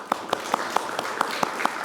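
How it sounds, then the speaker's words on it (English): Light, scattered clapping from an audience, a steady patter of hand claps for a couple of seconds. "Let's give them both a round of applause."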